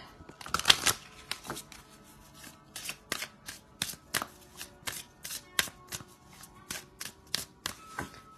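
A moon goddess oracle card deck being shuffled by hand, with a dense riffle at the start and then a steady run of crisp, evenly spaced card flicks and taps, close and fairly quiet, with no talking.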